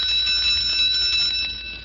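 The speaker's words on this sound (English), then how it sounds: "Listen to her whack that bell." A school bus bell struck again and again in a quick, continuous clang, a bright steady ringing close by with nobody talking over it.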